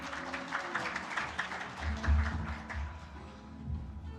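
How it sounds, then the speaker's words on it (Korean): An audience at an international environmental workshop applauds as a speaker goes to the podium, moderate clapping in a hall that grows busier and then fades, with low rumbling noise in the room. "자리하실 때 큰 박수로 환영해 주십시오."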